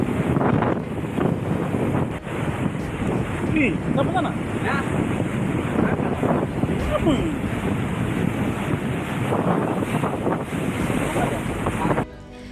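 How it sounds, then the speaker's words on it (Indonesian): Strong wind roars over a coastal area in stormy rain, with rough sea waves surging in a loud, continuous, buffeting wash, while people speak briefly in the background. "hujan disertai angin kencang tak kunjung berhenti, serta kondisi air laut yang pasang dengan gelombang yang kuat"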